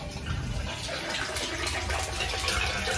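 Water gushes fast and steady from a pipe, a continuous rushing flow close by with no voices over it.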